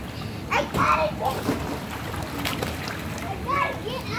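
Someone jumps into an outdoor family swimming pool with a sharp, close splash, followed by sloshing water while children's voices chatter nearby.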